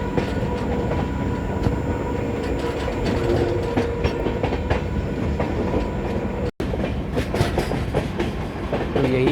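The 17642 Narkher–Kacheguda Intercity Express runs at speed behind a diesel locomotive, heard as a loud continuous rumble with rhythmic clickety-clack of wheels over rail joints and a brief dropout near the end, with no talking.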